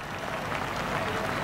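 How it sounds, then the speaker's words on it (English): A crowd at an IndyCar race in Kentucky cheering and applauding in a dense, steady wash of clapping and noise, with a voice faintly audible underneath. "Listen to the crowd."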